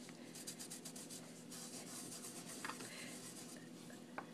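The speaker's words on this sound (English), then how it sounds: "rub this on the surface of my tag" Soft, steady rubbing of Inka Gold metallic paste onto the surface of a paper craft tag, a faint continuous friction texture with a couple of tiny clicks near the end.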